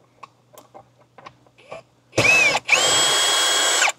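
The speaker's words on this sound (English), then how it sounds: "So let's start removing the bolts." A power tool removes bolts from the radio dash of a 4th-generation Toyota 4Runner: soft clicks and handling first, then a short whirring burst and a longer, loud close spin.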